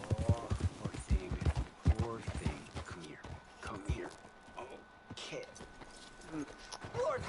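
Horse hooves clip-clop at a steady walking rhythm in the Red Dead Redemption 2 video game, fairly quiet and ongoing beneath someone talking throughout.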